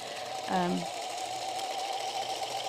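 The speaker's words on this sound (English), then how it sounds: "I messed with the sewing machine a little bit so that the sewing machine doesn't give me a hard time." A home sewing machine runs while piecing quilt tops, a steady mechanical hum continuing throughout, with a short voice heard briefly near the start.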